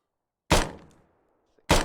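A grenade detonates in the Rising Storm war game as a sharp, loud thud that decays over about half a second. A second identical blast follows roughly a second later, with silence around both and no voices.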